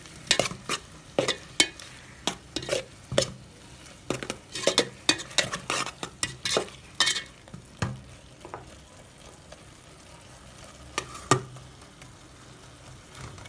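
Chicken macaroni with chili sauce stirred in a pan, rapid irregular scrapes and clinks of a spoon against metal over a soft sizzle, busy for most of the span then thinning out near the end.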